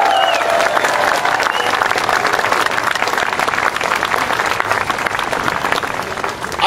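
Loud, sustained applause at an outdoor Tea Party rally in Boston as keynote speaker Grover Norquist is welcomed, dense crowd clapping with some cheering mixed in.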